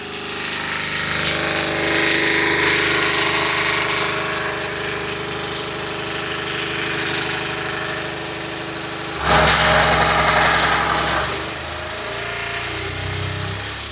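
A B2 Audio RIOT10-D4 V2 subwoofer driven hard with a very low 25 hertz test tone, a loud continuous rumbling drone with heavy rattling and buzzing vibration that briefly surges and shifts near the end.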